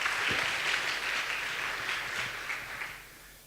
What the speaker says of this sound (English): Thank you very much for this. And yeah, applause.